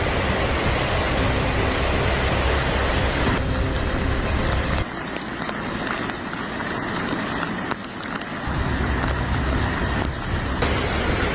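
Dense, hissing rain pours continuously, a broad wash of noise with abrupt changes in tone as the scene cuts between recordings.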